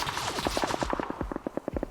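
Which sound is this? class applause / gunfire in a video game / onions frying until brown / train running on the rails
gunfire in a video game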